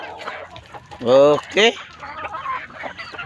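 Chickens cluck loudly up close in a couple of bursts, with softer background clucking and a brief spoken word.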